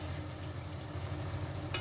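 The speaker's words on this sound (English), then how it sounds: "So I'm just going to add the fish gently. Give it a slight mix," Fish for an ilisha curry being added to a hot pan and gently stirred, a steady close sizzle with soft scraping as it is mixed.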